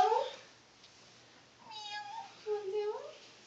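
A Pixie-Bob cat gives a couple of soft meows, fairly near, with quiet pauses between them.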